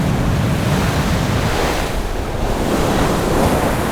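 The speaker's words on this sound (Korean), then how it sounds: "강력한 태풍 메아리가 섬을 덮쳤습니다." Typhoon Meari's pounding surf and strong wind batter an island harbour and its 10 m breakwater, a loud continuous roar of crashing waves and buffeting wind with no voices.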